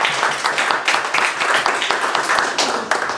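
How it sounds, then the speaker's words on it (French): Applause honouring Mélanie at a solo art exhibition opening, a dense, steady patter of many hands clapping at moderate distance for about three seconds, with no voices over it. "ça vaut vraiment un applaudissement pour Mélanie"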